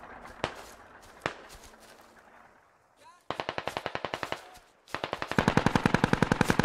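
Machine gun fire in the military shooter game Squad: a couple of isolated shots, then two long rapid bursts of automatic fire, loud and close, with faint voice chatter in the background.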